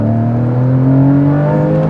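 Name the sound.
Porsche Cayman GTS (981) engine revving with sports exhaust on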